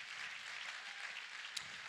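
A large audience at an inspirational talk claps in a steady, even wash of many hands, moderately distant and unbroken, with one sharper clap standing out near the end.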